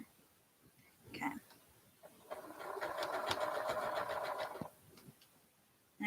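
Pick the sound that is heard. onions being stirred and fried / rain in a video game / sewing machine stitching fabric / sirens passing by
sewing machine stitching fabric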